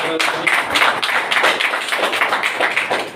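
An audience claps for Gopal Botre at a weekly Forsage plan presentation meeting in Akola, a dense run of hand claps at moderate loudness that keeps going and rises and falls slightly throughout.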